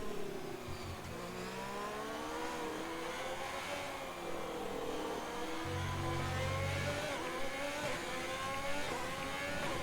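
A Formula 1 race car engine in F1 2020 screams at high revs down a straight, its whining pitch climbing and dipping through gear changes, with other cars droning close by.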